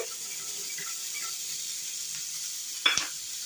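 Green peas frying in a pan for paneer masala, a steady hissing sizzle throughout with one short clatter of a spoon near the end, close and even, no talking.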